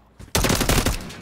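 Gunfire from a video game shooter: after a faint single report, a rapid automatic burst of loud, closely spaced shots rattles for about a second, then trails off.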